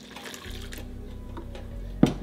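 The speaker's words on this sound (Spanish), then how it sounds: "Le vamos a poner un poquito de agua." Water is poured into a pot of red chile sauce cooked with carnitas lard for pork tamales: a low, steady trickle, then a brief splash near the end.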